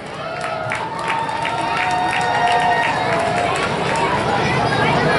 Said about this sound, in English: Mike Wrigley, let's hear it for him.